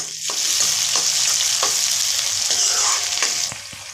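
Tomatoes fry hard with ginger-garlic paste in a hot pan, a loud, steady sizzle broken by the occasional scrape and tap of a stirring spoon, fading slightly at the end.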